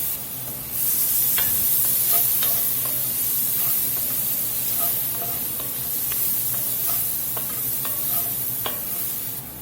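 Minced garlic, about two tablespoons, sizzles steadily in a pot for a pot roast, with a constant frying hiss broken by scattered clicks and scrapes of stirring, close and alone.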